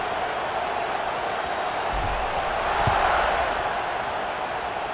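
Broad crowd roar fills the air at a college football game, South Carolina against Michigan, during a kickoff after a touchdown drive, steady and diffuse with a slight swell midway, heard from a distance with no clear voices.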